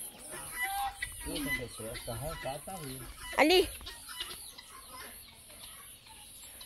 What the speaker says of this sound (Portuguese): Três galinhas botando na mesma hora.